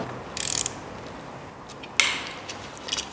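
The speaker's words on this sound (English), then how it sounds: "Next is to undo the nut on the back of the brake caliper." A nut on the back of a Brompton folding bike's brake caliper is being undone, giving short bursts of rapid metallic ratchet-like clicking, close and fairly quiet, in three separate spurts with pauses between.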